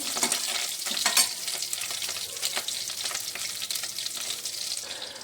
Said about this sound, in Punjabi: ਹੁਣ ਅਸੀਂ ਇਹਨੂੰ ਅੱਛੀ ਤਰ੍ਹਾਂ ਪਹਿਲੇ ਭੁੰਨ ਲਵਾਂਗੇ